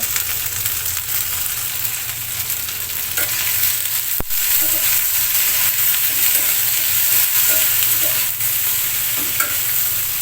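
Okra frying in a hot pan with salt and turmeric for a mustard okra dish gives off a loud, continuous close sizzle as it is stirred, with a single sharp click partway through.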